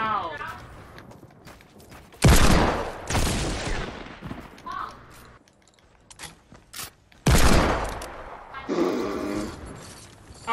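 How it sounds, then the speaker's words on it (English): Sniper rifle shots in a Fortnite battle royale match, two or three sharp loud cracks with short ringing tails, spaced several seconds apart, between quieter game sounds and players talking. "you're getting sniped at from the original people that I was sniping at?"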